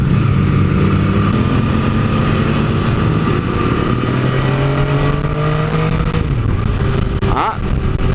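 Triumph Speed motorcycle passing at a motorbike rally, a loud engine note rising and falling as it approaches and goes by, with other bikes and crowd noise around and brief indistinct voices.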